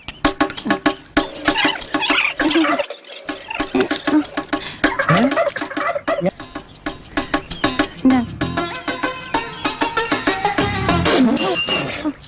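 Tea is poured in a Tamil comedy scene, with trickling, splashing liquid filling a cup amid busy, overlapping background sounds.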